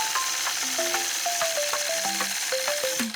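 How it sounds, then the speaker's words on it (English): Sewing machine free-motion quilting along a machine quilting ruler, a fast rapid mechanical rattle of needle strokes, steady and close, with faint tonal whirs shifting as the stitching moves. "So I think I'll start quilting right here and work my way around."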